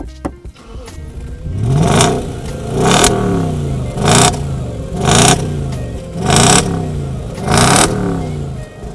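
An Audi S4 with a 4.2 V8 revs repeatedly through its exhaust, with about six sharp blips rising and falling in a regular rhythm, loud and close.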